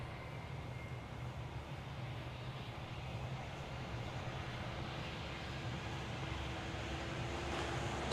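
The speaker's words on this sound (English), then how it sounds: "It's American Flight 2046, 737-800" An American Airlines Boeing 737-800 jet in TWA retro livery produces a faint, distant, steady engine roar at a Dallas/Fort Worth airport under cloudy skies. The drone holds constant throughout, with no talk.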